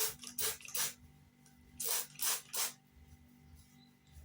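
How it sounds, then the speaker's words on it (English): Several short bursts of spray hiss, a quick pair early on and then three more in a row, close and fairly soft with a quiet gap between. "you spray on your hair"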